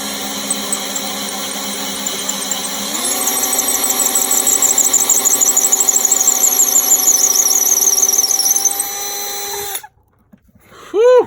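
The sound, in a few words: power drill drilling antler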